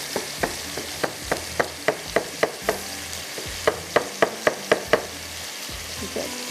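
Minced meat (keema) frying in a pan, with a steady sizzle broken by regular sharp clacks and scrapes of a utensil stirring against the pan, close and fairly loud, with no talking.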